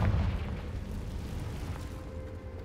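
Confringo explosive spell blast in Hogwarts Legacy: a deep booming burst at the start, then a low rumbling tail that slowly fades, moderately loud with no talking.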